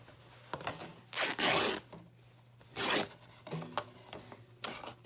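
Paper torn by hand while making a notebook, two long ripping tears close up plus a few shorter rips and rustles, no talking.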